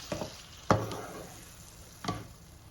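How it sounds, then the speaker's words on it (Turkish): Liver and lung sizzle softly in a hot pan while a utensil scrapes and stirs them in three distinct strokes. "Bu ciğer iyice çıtır çıtır oluncaya kadar kavurma işlemine devam ediyoruz."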